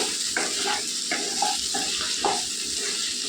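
Okra fries with chili powder in a pan, a steady sizzle broken by a few rhythmic stirring scrapes of a spatula.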